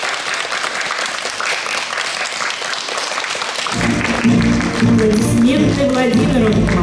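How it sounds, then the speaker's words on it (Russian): An audience claps for a child who has just recited a war poem at an awards ceremony for a recitation contest, applause swelling from scattered hands into a full, sustained ovation, with a voice speaking over it. "Аплодисменты Владимиру."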